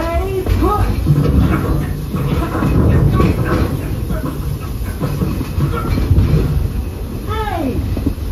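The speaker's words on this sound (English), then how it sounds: "That's not a snake! It's a train!" A Walt Disney World Railroad steam train rumbles past with steady clattering wheels and hissing, loud and close, while animated character voices talk over it.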